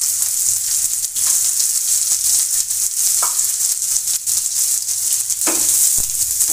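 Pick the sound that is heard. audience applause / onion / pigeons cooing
onion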